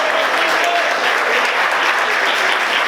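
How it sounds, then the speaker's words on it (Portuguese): Congregation in a Brazilian evangelical church applauding hard for Jesus, a dense, loud, continuous wash of clapping from many hands with no voices heard. "Aplauda Jesus bem forte"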